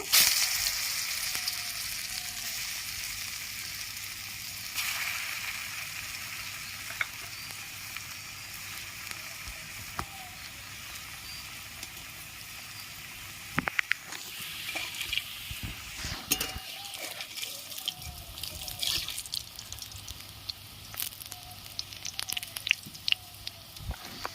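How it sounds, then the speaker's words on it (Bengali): Pieces of lentil cake (dhoka) fry in hot oil with a steady soft sizzle throughout, broken by occasional sharp clicks and utensil taps as pieces are added and stirred. "তেল গরম হয়ে গেছে এবার আমি এক এক করে সব ভেজে নেব"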